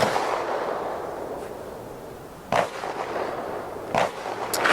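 Romanian M56 SKS rifle fired outdoors at a range with targets out to 240 yards; two sharp, distant-sounding gunshots land a second and a half apart over steady wind-like background noise.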